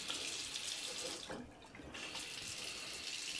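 Water runs steadily from a newly installed bathroom faucet into a sink, a close, constant hiss and splash with a brief dip in the middle, no voices.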